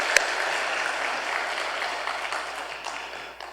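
Warm applause from a church congregation at a Sunday service honouring a pastor after a ten-day fast, steady many-handed clapping that slowly fades toward the end.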